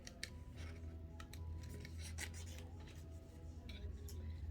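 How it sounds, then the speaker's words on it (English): Scissors snip around stamped paper flower shapes for a birthday card, giving faint, close, irregular cuts and rustles against a low background hum. "we're going to go ahead and cut these all the way around."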